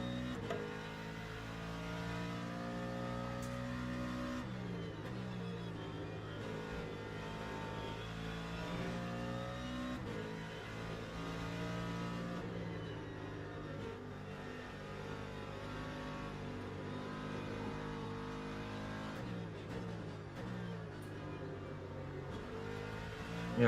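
Racing car engines drone and rev continuously in a video game, pitch rising and falling through gear changes, with no talking.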